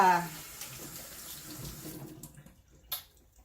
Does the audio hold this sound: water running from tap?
yes